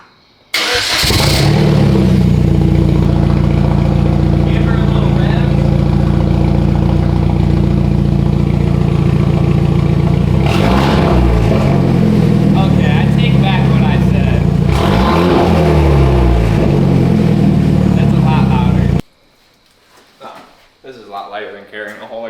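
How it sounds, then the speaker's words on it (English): A Hyundai Genesis Coupe engine starts and runs loud and raw with no exhaust fitted, idling with a couple of revs, then cuts off as a voice talks. "I kind of want to start the car with nothing on it and just see like the sound difference."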